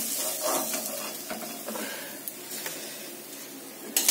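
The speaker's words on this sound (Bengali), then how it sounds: "এখানে হচ্ছে পাবদা মাছ ভাজা চলছে" Pabda fish frying in a pan at home, a soft steady sizzle and hiss of hot oil, fairly close, with a few brief clicks and kitchen knocks over the continuous frying.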